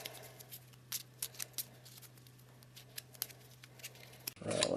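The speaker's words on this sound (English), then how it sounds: "So let's give these another shuffle." A deck of game cards for the Arkham Horror board game being shuffled, with a series of sharp, snappy card flicks and riffles close up, followed by a louder rustle at the end; no talking.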